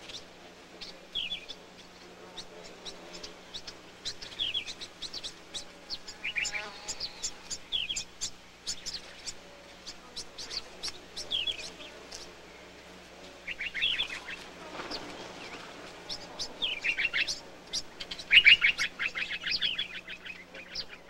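Bulbul birds in tamarisk trees in desert country call repeatedly: rapid chattering, trilled phrases and sharp chirps come in irregular bursts over about twenty seconds, fairly close, with a low steady hum beneath.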